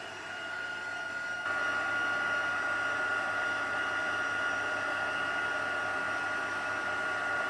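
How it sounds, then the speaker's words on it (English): A crafting heat tool blows over a wet card element, its steady whirring hiss starting softly then jumping louder and staying constant, with no talking. "This is not dry, so let's bring the heat tool in and just quickly heat that up."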